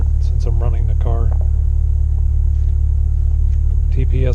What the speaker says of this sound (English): I'm running the car